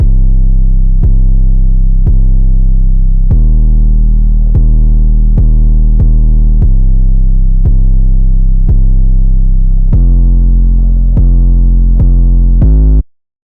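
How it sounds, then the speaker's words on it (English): Money Spread 808 bass pattern in a dark trap beat: loud, sustained deep sub-bass notes gliding between pitches in a steady rhythmic sequence, with no voices, ending abruptly. "The first 808 is this Money Spread 808."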